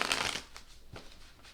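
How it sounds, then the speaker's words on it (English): Tarot cards being shuffled by hand, a crisp riffle burst at the start followed by several softer, brief card flicks, close and quiet. "So I'm going to do a couple shuffles here."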